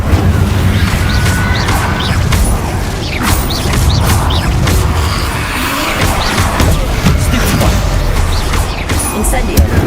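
Fire spells cast over and over in the Hogwarts Legacy video game during combat, loud mechanical bursts and booming crashes arriving in quick succession over a dense, continuous bed of game noise.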